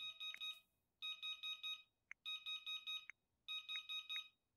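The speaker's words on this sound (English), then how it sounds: "Oh, is that my alarm clock?" An alarm clock ringing in a video game, rapid electronic beeping in repeated bursts separated by short pauses, clear and alone with no talking.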